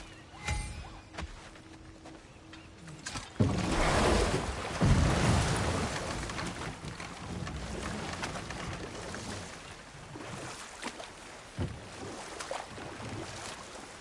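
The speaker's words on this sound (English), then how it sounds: "Waterfalls. We're close." Rushing waterfall water in God of War Ragnarök, a broad steady roar that swells after a few seconds and then holds at moderate level with scattered splashy transients.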